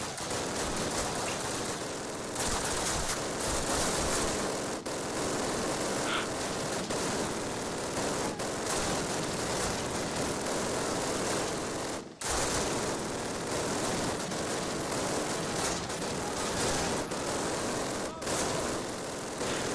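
Sustained gunfire in the Call of Duty video game during a town-defense match, with dense rattling automatic bursts and shots running almost continuously and loudly, briefly dropping out once midway.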